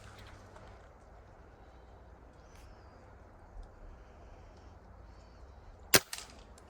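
A single sharp gunshot from a shotgun-style pest bird hunt aimed into a tree, a loud crack near the end of an otherwise quiet outdoor stretch, followed by a brief echo.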